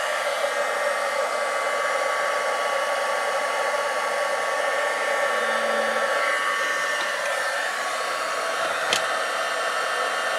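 A heat tool melting embossing powder makes a loud, steady whirring blast of hot air that runs unbroken, with no talking over it.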